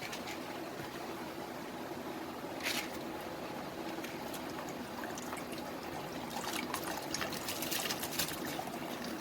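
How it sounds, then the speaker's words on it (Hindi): Rice is poured into boiling water for chicken dum biryani: water trickles and splashes steadily, with a couple of brief louder pouring bursts partway through; no voices. "तो मैं चावल इसमें डाल रही हूँ"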